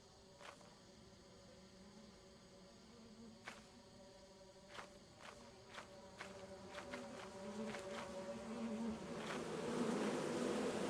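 Bees buzz steadily from a double beehive in a video game, a continuous droning hum that grows louder toward the end, with a few faint sharp clicks scattered through it.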